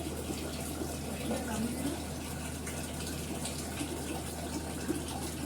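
A kitchen tap runs steadily as utensils are rinsed after cooking, giving an unbroken close splash of water that lasts the whole stretch.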